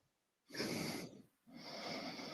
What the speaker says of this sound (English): Maybe his dog's snoring.